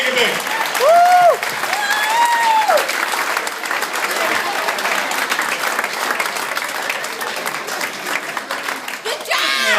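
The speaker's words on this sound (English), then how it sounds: "Big round of applause. Come on, make it big." Audience applause and cheering at a stage hypnosis show, sustained crowd clapping with whoops and a few whistles over it, steady and loud throughout.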